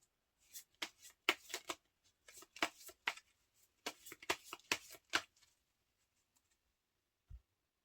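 Tarot cards are handled at close range in short bursts of quick riffling and flicking, several clustered shuffles with brief pauses, then a single soft tap near the end in an otherwise quiet room.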